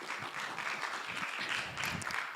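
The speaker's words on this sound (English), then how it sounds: "let's clap for Paz" An audience at an international research conference paper session claps for a presenter, a moderate, fairly close patter of hands with uneven individual claps over a couple of seconds.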